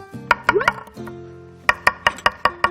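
Skilled knife strokes chopping on a cutting board in a cooking lesson, sharp rapid knocks in quick bursts with a short pause between runs, close and clear with no talk.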